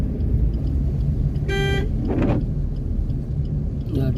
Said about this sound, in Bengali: গাড়ি সেকেন্ড গিয়ারে তুলতে হচ্ছে।